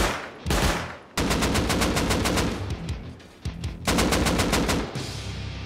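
Automatic gunfire in a first-person shooter video game comes in long, loud, rapid bursts with short pauses between them. Each volley rattles hard and close.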